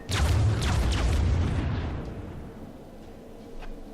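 Large ship guns fire at maximum range in World of Warships, a heavy booming salvo that rumbles loudly at the start and then fades into a long rolling decay with a faint later thump.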